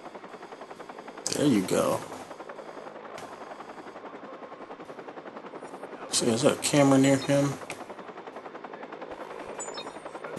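A helicopter in the video game Watch Dogs gives off a steady rhythmic rotor chop throughout at moderate level, while someone talks over it in two short bursts.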